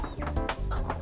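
A few short chicken calls from a backyard flock, including a rooster, over low rumbling background noise, clucking nearby.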